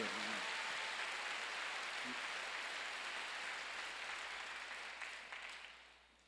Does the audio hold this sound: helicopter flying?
no